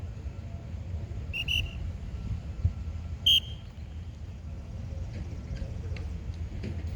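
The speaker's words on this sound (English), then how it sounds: "Next whistle, you go." Two short, high blasts of a coach's whistle at sprint start training, spaced a couple of seconds apart, cut through a steady low background rumble; no one speaks.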